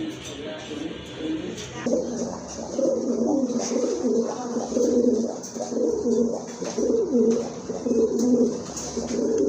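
Several pigeons coo in repeated low, rolling phrases, close and fairly loud, with a faint hum and a few soft clicks in the background.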